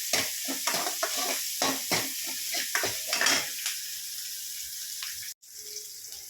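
Onions sauté in a pan with rock salt, with a spoon stirring in repeated scraping strokes over a soft, steady sizzle, close and moderately quiet, followed by a short pause near the end.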